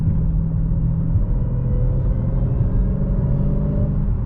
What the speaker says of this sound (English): The colder days really play a big part in how the car whines, because it's all the intake is getting that cold air